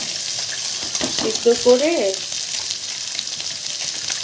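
Boiled chicken sizzles and fries in a pan with garlic, a steady crackling hiss with stirring, while a voice talks briefly over it.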